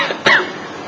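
A husband gives a single short, sharp cough, close and clear, with a faint breath just before it and quiet after.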